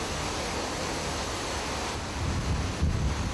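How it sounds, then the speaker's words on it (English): Fast wind from Hurricane Katrina's storm surge at Gulfport, Mississippi: a steady, loud, broadband roar of rushing air and buffeting, swelling with deeper gusts near the end, with no voices. "That wind is fast, man. That is some fast wind"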